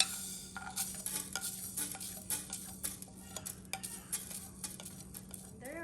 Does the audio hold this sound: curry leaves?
yes